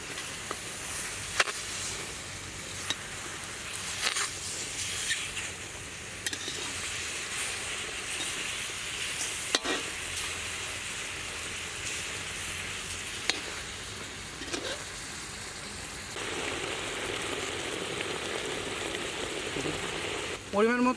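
Chicken leg pieces fry in a pan for Coca-Cola chicken, producing a steady, hissing sizzle over about twenty seconds, broken by occasional scraping knocks as the pieces are turned.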